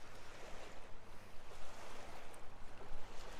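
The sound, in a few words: ocean waves coming into the beach shoreline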